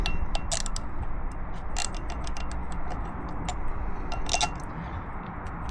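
Ratchet clicks come from a wrench nipping up bolts on a Ducati Multistrada motorcycle, a quick run of close, crisp ticks over a steady background hum, with no talking.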